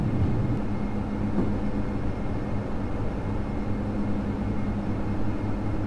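Turboprop engines of a Majestic Dash 8 roar steadily during takeoff roll and rotation in Flight Simulator X, a continuous loud low drone with no voices.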